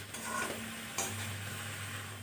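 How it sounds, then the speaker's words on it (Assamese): Onion, ginger and garlic being stirred as they fry in a pan for a pumpkin-leaf vegetable dish, with a steady close sizzle and the scrape of a spoon against the metal, one sharper clink partway through. "আৰু এতিয়া আমি আকৌ ভালকৈ লৰাই ল'ম।"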